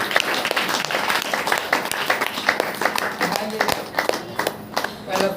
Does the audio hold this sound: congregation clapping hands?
yes